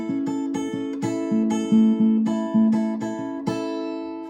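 An acoustic guitar picks out the chord pattern from a song, fingerpicked notes ringing over a sustained low tone in a steady rhythm, clean and close with no voices.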